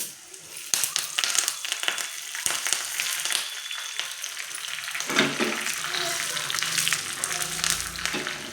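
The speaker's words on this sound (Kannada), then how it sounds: "ಇವಾಗ ಕರ್ಬೇವಿನ ಸೊಪ್ಪು ಹಾಕ್ಕೊತೀನಿ ಎಗರುತ್ತೆ ಮೇಲೆ" Curry leaves hit hot oil for a lentil bele saaru, crackling and spitting in a loud, dense sizzle with sharp pops throughout, close up and with no talking.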